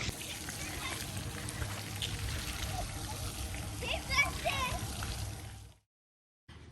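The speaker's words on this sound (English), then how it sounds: "We're checking out the water park here that they've just opened at our local park." Water splashing and sloshing at a newly opened splash-style water park in a local park, with children's voices chattering throughout, a few brighter shouts near the end, then a brief drop to silence.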